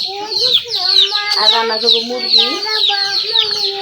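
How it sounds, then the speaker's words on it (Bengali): Small chicks and hens clucking up close: a continuous stream of high, thin chick peeps layered over lower hen clucks, busy and overlapping throughout. "ছোট ছোট দেখেন মুরগি বাচ্চা"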